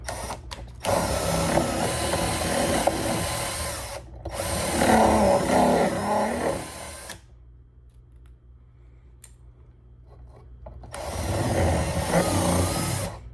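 A nylon brush scrubbing out a car intake tube, loud close rasping bursts of brushing separated by short pauses and one longer quiet gap, with no speech.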